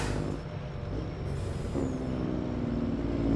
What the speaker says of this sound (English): Hear that downshift? That sounds good.